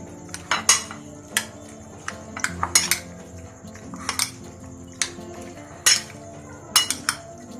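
A spoon clinks and scrapes against a metal pot or bowl while garlic paste and ginger paste are stirred together for a ginger chicken karahi, giving irregular close taps and knocks with no talking.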